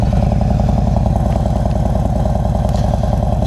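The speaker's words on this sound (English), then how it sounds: "we're gonna cut to me riding the bike" A Yamaha Raider, a big 113-cubic-inch V-twin motorcycle, riding along the road, its loud, close engine thumping in a steady, throbbing rhythm throughout.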